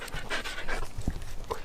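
A husky pants in quick, rhythmic breaths at close range inside an abandoned building, steady and moderately loud with no clear talk over it.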